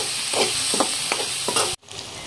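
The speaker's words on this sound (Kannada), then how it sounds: "ಈಗ ಇದನ್ನ ಪೂರ್ತಿ ಮಿಕ್ಸ್ ಮಾಡಿ ಟಮಾಟಿ ಒಂದ್ ಸ್ವಲ್ಪ ಸಾಫ್ಟ್ ಆಗ್ಬೇಕು ನೋಡ್ರಿ, ಆ ತರ ಬೇಯಿಸ್ಕೊಳ್ಳೋಣ್ರಿ." Tomatoes frying in a pan for dal tadka, a steady sizzle with several soft scraping stirs, cut off abruptly near the end.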